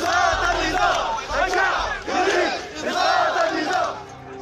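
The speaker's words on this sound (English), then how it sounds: "Crowds chanted slogans from the Arab Spring revolutions of" Large protest crowd in Sudan chanting revolutionary slogans in loud rhythmic unison, several swelling call-and-response phrases repeating steadily throughout.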